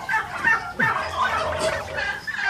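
Young turkeys about four and a half months old gobble on a farm in Narsingdi, a loud, close, rapid chorus of warbling gobbles and clucks.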